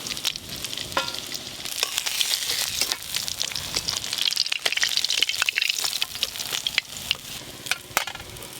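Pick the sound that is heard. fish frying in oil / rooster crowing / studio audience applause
fish frying in oil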